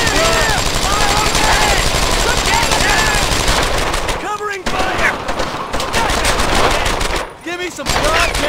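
Sustained machine gun fire in Brothers in Arms: Earned in Blood, loud rapid bursts filling nearly the whole stretch with brief pauses, plus shouting voices among the gunfire.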